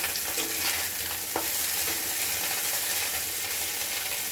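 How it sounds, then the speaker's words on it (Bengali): Pieces of fish fry in a pan with a dense, steady hiss of oil spattering close by, broken by occasional faint clinks, with no talking. "দেখো, মাছগুলো ভেজে নিচ্ছি সুন্দর করে।"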